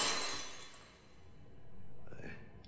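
Glass breaks and shatters in a dramatic TV drama scene, a loud crash up front that fades into scattered tinkling over about two seconds, with faint background sound afterward.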